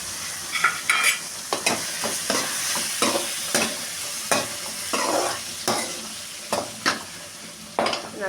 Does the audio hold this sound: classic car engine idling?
no